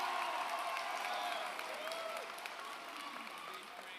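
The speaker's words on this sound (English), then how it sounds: "Please give him a round of applause." Audience applause fills a graduation ceremony hall, a sustained crowd clapping that stays steady and then eases slightly toward the end.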